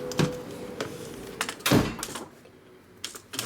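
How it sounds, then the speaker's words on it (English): Door being shut in a garage where a rigid bobber chopper is being worked on, with a few rattling knocks and a heavy thunk near the middle, at moderate loudness. "Close the door."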